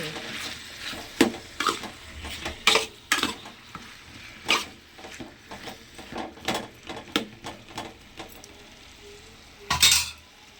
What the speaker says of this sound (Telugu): టమాటాలు ఇట్లా ఫ్రై చేసుకొని టమాటాలు మంచిగా మెత్తగా అయ్యేటట్టు